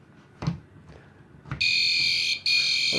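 P2R fire alarm powered at a low 1.5 volts, giving a steady high-pitched electronic tone that starts after a few faint knocks, breaks off briefly and then resumes, heard close in a quiet room.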